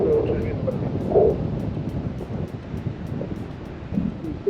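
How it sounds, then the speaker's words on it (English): Steady wind rushing and buffeting over the microphone during a tandem paragliding approach in Miraflores on a strong-wind day, a constant low roar with gusty swells, faint voices mixed in. "Because the wind is strong today."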